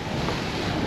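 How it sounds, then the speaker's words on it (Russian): Strong wind buffeting at the Issyk-Kul lake shore, a dense continuous roar of gusts hitting close up with no pauses, heard alone. "ветер дует безумно"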